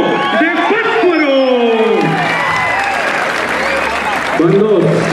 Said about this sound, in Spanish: ¡Échale fuerte el aplauso!